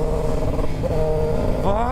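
A motorcycle engine drones steadily up close, then revs hard with a rising pitch in the final half-second.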